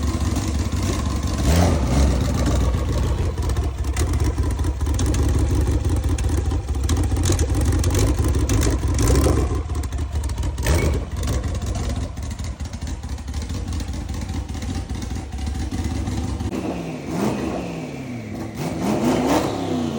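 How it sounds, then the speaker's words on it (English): A twin-turbo Ford Mustang engine revs loudly and steadily at close range as the car moves forward, then shifts tone near the end as it reverses a short distance, with no one speaking. "let me go ahead and drive it forward for you guys and then backwards just a little bit"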